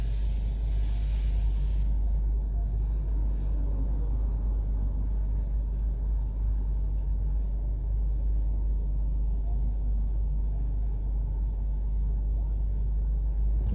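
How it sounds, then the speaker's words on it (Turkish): A car pulls away from traffic lights in first gear on a driving-test route in Aksaray, its engine a steady, loud low rumble that holds throughout with no clear rise in revs. "Gaz veriyorum ve kalkışı gerçekleştiriyorum."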